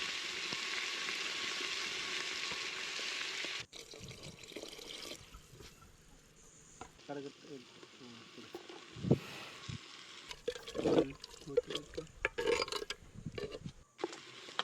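Spice powders stirred and sautéed in a pan for a dried anchovy curry, starting with a steady loud sizzle that cuts off, followed by scattered scraping, clinks and bubbling sounds of stirring.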